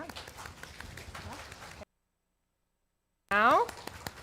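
A church congregation snapping fingers and clapping together makes a dense, steady patter of small cracks. It cuts to silence, then a short swooping tone follows.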